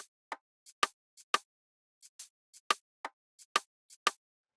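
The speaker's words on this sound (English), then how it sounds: "And then I had these toms play just right underneath." Toms in an Afro-Gospel production play alone here as a sparse pattern of short, soft drum hits, a dozen or so strikes in an uneven groove with silence between them.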